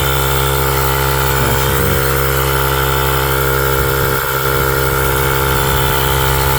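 A portable backup compressor inflates a tubeless motorcycle tire, a loud, steady, motor-like drone running on without pause, with a brief dip in tone partway through.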